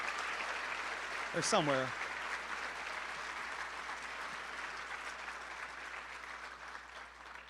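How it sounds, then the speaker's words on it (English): Audience applause at a conference main stage welcomes two visiting university students, steady broadband clapping throughout, with a brief voice speaking over it near the start. "Let's give them a round of applause."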